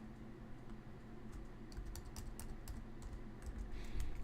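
Computer keyboard typing code, steady irregular key clicks and taps running throughout at moderate level, close by, with a low background hum and no talking.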